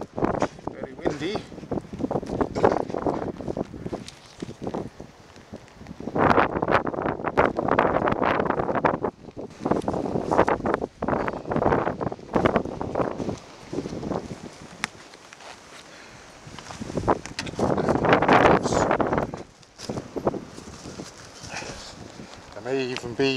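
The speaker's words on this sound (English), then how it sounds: "Very windy." Strong wind buffets the microphone during a ride on a BSA C15 250 greenlaner motorcycle, roaring in loud irregular gusts that come and go over the engine.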